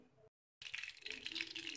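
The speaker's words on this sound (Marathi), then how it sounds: "मोहरी छान तडतडलेली आहे" Mustard seeds crackle and spit in hot oil while potato bhaji is being cooked. After a short silent break, a close, dense, steady sizzle and popping carries on to the end.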